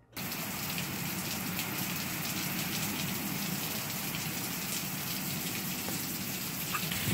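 Heavy, steady rain pours down outdoors, a dense continuous hiss of drops striking surfaces with no letup, loud and close.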